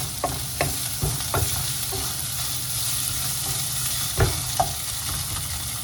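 Prawn masala with ginger garlic paste sizzles steadily in a pan while a spoon stirs through it, giving a few sharper scrapes against the metal under a constant frying hiss.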